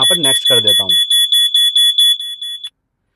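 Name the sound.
alarm sound from GPS tracker app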